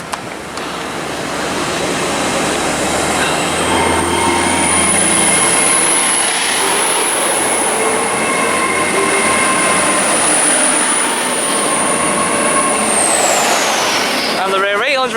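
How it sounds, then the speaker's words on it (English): A Hitachi class 800 train, unit 800-001, passes through Reading station on the Great Western Main Line, building to a loud sustained rush with a high whining tone that holds and then fades, with no other sound prominent. "It's 800-001 with a lovely tone from its new livery, 800 Hitachi livery."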